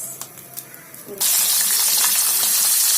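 Fish frying in a pan, a loud steady broadband sizzle that switches on abruptly and holds close, preceded by quiet kitchen clatter.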